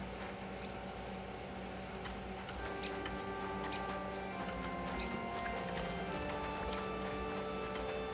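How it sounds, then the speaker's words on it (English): Horse hooves clip-clop at a steady walking rhythm in the medieval video game Kingdom Come Deliverance 2, moderately near, over continuous game music and ambience. "Oh, that's a pretty horse."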